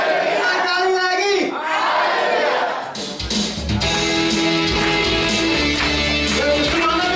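A church congregation at a Pentecostal Sunday worship service shouts hallelujah together, a loud massed crowd roar filling the space, rising in bursts over sustained noise with a leader's voice prompting them.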